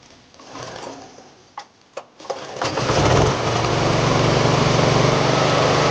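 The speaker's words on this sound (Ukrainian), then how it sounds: "Генератор працює справно, готовий до експлуатації." A gasoline generator, freshly serviced with a cleaned air filter and new oil, gives a few sharp cranking pulls, then fires up and settles into a loud, steady, close engine drone.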